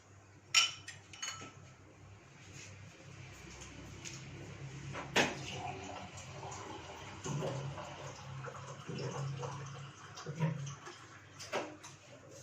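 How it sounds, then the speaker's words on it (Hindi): Water poured from a glass into pomegranate juice in a kitchen, a quiet splashing pour with a few clinks of glassware and utensils, close and alone without talk. "इसमें मैं डालूँगी अब 1 गिलास पानी।"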